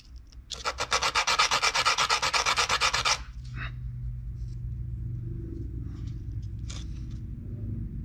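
Sandpaper rubs back and forth on the end of a wooden dowel in a steady, loud burst of rapid strokes lasting about three seconds, followed by quieter handling noises and low background hum.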